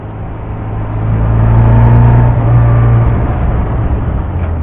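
A 1970 MGB sports car engine drones steadily while driving on a road, a loud close hum that swells briefly and then settles, with no talk.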